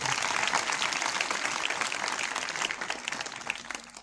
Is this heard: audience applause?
yes